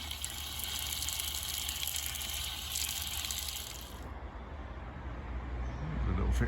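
Water gushes steadily from a tap at a shore-side fixture in Portugal, a continuous hissing flow that stops partway, leaving quieter outdoor ambience with faint traffic.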